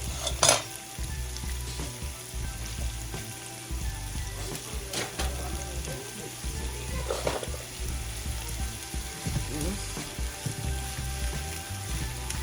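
Vegetables sauté for chili in a hot pan, a steady close sizzle with occasional stirring scrapes and light clatter, alone without talk.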